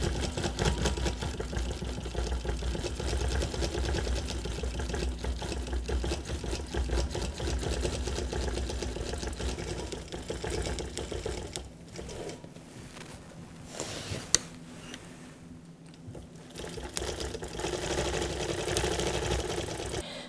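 Longarm quilting machine stitching between quilt blocks: a steady, rapid mechanical whirring and needle chatter runs continuously, briefly easing and pausing midway, then resuming close and fairly loud, with no talking.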